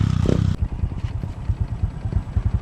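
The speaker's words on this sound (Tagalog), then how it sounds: "ang ingay po ng sasakyan" A motorcycle engine with a fault putters at idle in a quick, steady rhythm, fairly close, after a brief louder rumble at the start.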